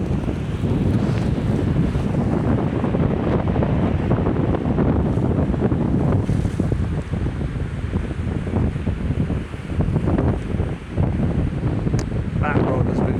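Strong 35 mph wind roars and buffets the microphone continuously at a fishing spot, with wave and water noise mixed into the steady gusting and a voice speaking faintly beneath it.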